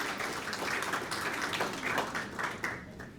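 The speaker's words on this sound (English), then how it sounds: "how about a nice round of applause for all of our teachers of the year?" Applause from the audience at a teachers-of-the-year awards celebration fills the room, a steady wash of many hands clapping throughout.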